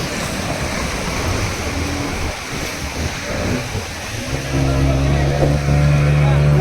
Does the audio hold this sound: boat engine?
yes